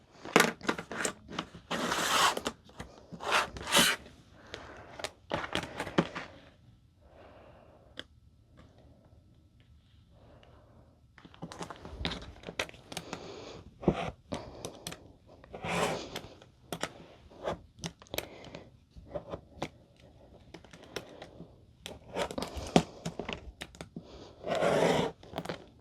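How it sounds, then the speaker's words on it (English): A fabric side panel for a handbag is being cut in bursts of crisp snipping and slicing sounds, busy clusters separated by a quiet pause, close and fairly loud with no speech. "I'll grab them here after I cut the other side panel"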